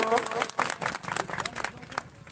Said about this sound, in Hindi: तालियों के साथ उनका हार्दिक अभिनंदन हो